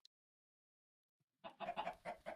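Chickens in the video game Minecraft cluck in a quick run of short, close clucks after a near-silent start.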